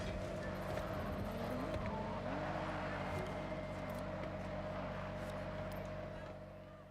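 A car drifting in Forza Horizon, its engine holding a loud steady drone with wavering tones as the revs swing, sustained before easing off at the end; a voice talks faintly underneath.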